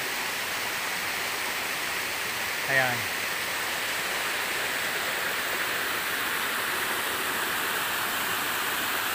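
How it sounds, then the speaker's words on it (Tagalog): A mountain forest waterfall crashes down in a steady, full roar that fills the whole scene; a voice speaks one brief word partway through. "So dito po bagsak yung tubig."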